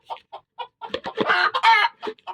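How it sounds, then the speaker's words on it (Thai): A mother hen clucks near the microphone in a farmyard, a run of short clucks building into a louder, drawn-out squawking cackle before settling back to single clucks. "ไก่ตัวแม่พากระตาก"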